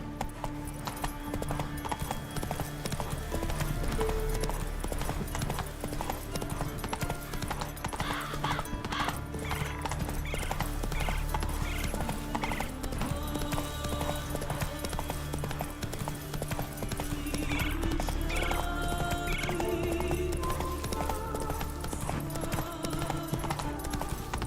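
Horse hooves trotting in The Witcher 3 game, a steady, loud clip-clop rhythm that keeps going throughout over a constant wash of outdoor game ambience and music.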